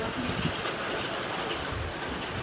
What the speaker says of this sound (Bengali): প্রচন্ড ঝড় হচ্ছে, প্রচন্ড।